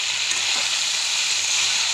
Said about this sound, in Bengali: তো এখন একটু ভালো করে ভাজা চলছে, ভাজা হোক।